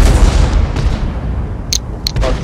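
Tank cannon fire from a high-explosive shell in World of Tanks, heard as a loud booming blast with a rumbling low tail under continuous game noise, followed by a couple of brief sharp pops.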